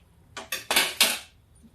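Four quick scraping swipes in a row, each a short bright rasp of a chips cutter blade through a boiled potato, close and fairly loud.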